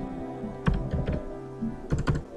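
Typing on a computer keyboard at a desk, quiet, close clusters of key clicks in two short bursts separated by a pause, with no voices.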